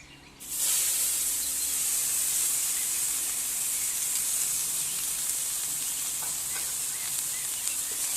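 Chopped onions frying in hot oil in a home kitchen pan, a steady bright hiss and sizzle that starts abruptly and holds evenly close and loud throughout.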